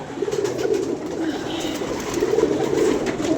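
Pigeons coo softly in a loft, with low, repeated throaty calls against steady outdoor background noise.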